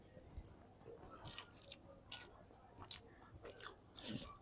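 Someone eats rice with mashed vegetable bhorta, soft close chewing with several crunchy bites in irregular bursts, faint and unhurried.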